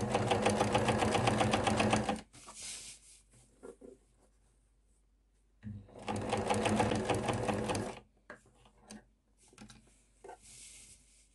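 A sewing machine stitches a neckline seam 5 mm from the edge on a qamis, running in two steady, loud bursts of about two seconds each, separated by quiet pauses with small handling clicks.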